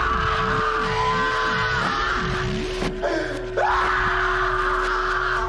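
A man screams for help in a low-budget 2006 horror movie scene, a long wavering anguished wail under a steady background tone, cut by a sharp jolt and then a rising, strained cry.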